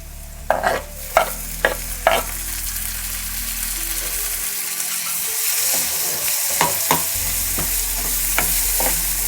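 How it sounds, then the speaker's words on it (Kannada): Tomatoes frying in a pan for Bambino vermicelli upma, a steady close sizzle with several sharp scrapes and clacks of a spoon stirring in the first seconds and again near the end; nobody talks. "ಟೊಮೆಟೊನು ಸ್ವಲ್ಪ ಫ್ರೈ ಆಗಲಿ"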